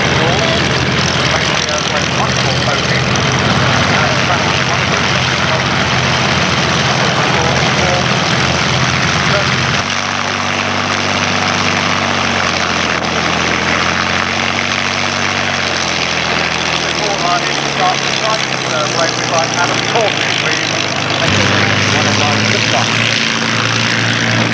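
A Supermarine Spitfire's piston aero engine runs steadily and loud throughout while the fighter taxis toward the runway at an airfield, its drone shifting pitch midway, with radio-style voices talking over it.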